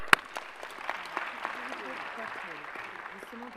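Audience at a plenary session on women in science applauding: steady clapping from a crowd following a sharp knock at the start, with faint voices and a soft tonal murmur underneath.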